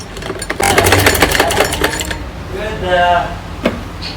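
A sewing machine chatters quickly and close by for a second or two as it stitches the folded-in collar of a child's night suit. After it stops, a brief voice-like sound and a faint knock follow.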